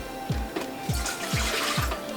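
Water poured into a blender jar in a home kitchen during vegan mac and cheese prep, heard as a steady close splashing stream broken by a few soft rhythmic glugs, with no talking.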